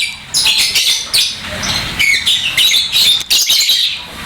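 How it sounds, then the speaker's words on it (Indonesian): Rapid, bright chirps and clicks from a male lovebird close by, coming in quick bursts with brief pauses between. "Burung juga sering kecap-kecap gitu."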